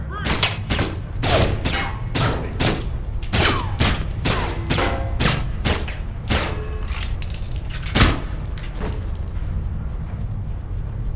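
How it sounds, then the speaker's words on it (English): Rapid bursts of gunfire from shooting enemies in the spy shooter Alpha Protocol crack out in a fast, regular sequence of loud, close shots, with a heavier thump near the end. "I like to shoot things."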